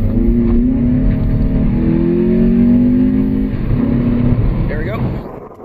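A car pulls away with its window down, giving a loud, close engine drone that rises in pitch as it accelerates and then fades near the end, with wind rush over the top and no talking.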